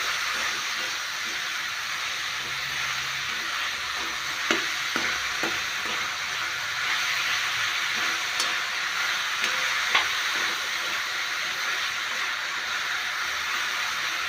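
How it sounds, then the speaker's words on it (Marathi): Pumpkin vegetable sautés in a pan with a continuous loud sizzle and hiss, punctuated by a few light scraping stirs and clicks. "हलवून मग त्यामध्ये चांगलं परतून घ्यायचं आहे आपल्याला"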